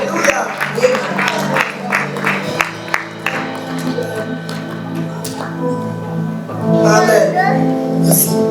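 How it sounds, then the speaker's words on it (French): A church congregation claps and calls out in welcome, with bursts of applause and acclamations among steady chatter and children's voices, swelling again near the end. "Et j'aimerais qu'on puisse aussi les accueillir par des acclamations"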